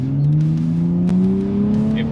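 A 2023 Nissan Z and a 2022 Kia Stinger GT accelerate hard side by side from a standing drag-race start, engines revving loud and close in a steady climbing pitch with no pause across the whole stretch.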